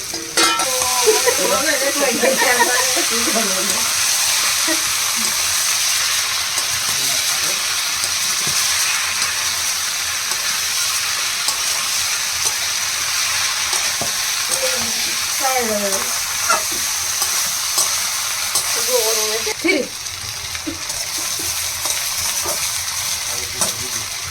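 Jackfruit, potatoes and prawns fry in a spiced masala with a loud, continuous sizzle, occasional stirring and brief snatches of talk over it.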